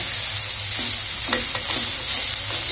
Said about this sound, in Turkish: Sıvı yağla kavurdum onu.